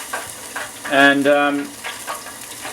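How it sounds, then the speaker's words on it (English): Butter melting in a hot pan while Cajun wings are prepared, giving a continuous soft sizzle with a brief spoken word layered over it partway through. "you can start to hear that sizzle already. That butter's melting."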